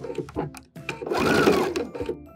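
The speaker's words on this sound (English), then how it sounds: "let's go ahead and sew right down it" A sewing machine stitches straight down an apron seam with backstitching, a close, loud mechanical whir in short bursts that swells into one sustained run before easing off.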